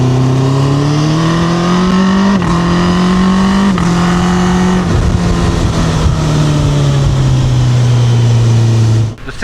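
A Honda CB1000F motorcycle engine runs loud and close, holding a high rev with gear changes and shifting pitch, a continuous strong engine note that drops away at the end.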